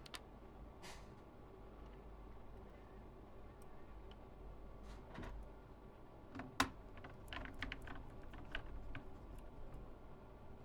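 Soft, uneven clicking of keys on a Dell Studio 17 laptop keyboard as a password is typed, a run of light taps with scattered sharper strokes over a low steady hum, close by and fairly quiet.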